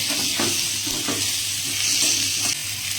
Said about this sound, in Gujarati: આ બાજુ આપણે ડુંગળી કંતરાઈ રહી છે